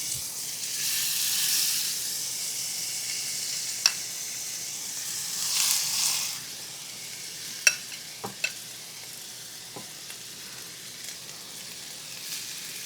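Salmon sears in a skillet with compound butter, giving a soft, continuous hiss that swells briefly twice, with a few sharp clicks and taps of utensils against the pan.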